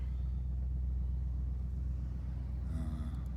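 A 1989 Cadillac Fleetwood idles after a cold start on a snowy New Year's Eve, its engine a steady, deep, low rumble heard up close, with a faint higher tone creeping in near the end.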